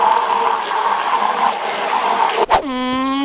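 Water pours and splashes steadily into animal water bowls, fairly loud and close, then a brief clunk cuts it off and a tonal whine follows.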